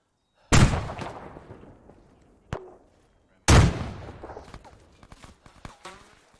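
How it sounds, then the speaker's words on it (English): AK rifle gunfire in the Arma 3 military game: two loud, sharp shots about three seconds apart, each trailing off in a long echoing decay, with a fainter crack and scattered smaller pops between. "AK fire inside the radar"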